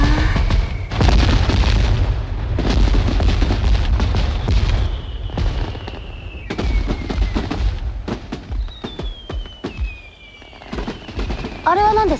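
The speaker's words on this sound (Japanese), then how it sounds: "あれは花火です。" Fireworks burst in a rapid string of loud, booming explosions with crackling tails, some whistling rises streaking through, continuous and close for the whole stretch.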